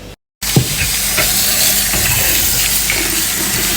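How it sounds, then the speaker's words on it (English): Parsley leaves rinsed over and over in cold water for tabbouleh, a continuous close hissing swish of water with small splashes and sloshes as the leaves are moved, after a brief silent gap. "So we're just gonna rinse them over and over now."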